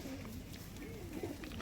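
A kasni pigeon coos softly in a low, rolling call, faint and close, with someone talking quietly over it.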